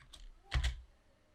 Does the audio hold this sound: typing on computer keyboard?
yes